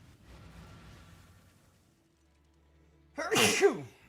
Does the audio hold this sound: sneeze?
yes